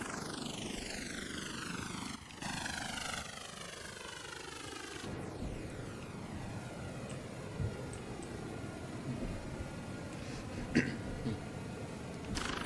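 A V-22 Osprey tiltrotor in a flight simulator game drones steadily with whining, sweeping engine and rotor tones, fairly faint throughout, with a brief throat clearing.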